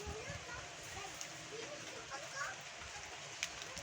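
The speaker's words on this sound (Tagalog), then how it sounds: "Yan na po yung malakas na ulan." Heavy rain pours outdoors in a green, leafy setting, a dense, even hiss with soft patters throughout and faint voices underneath.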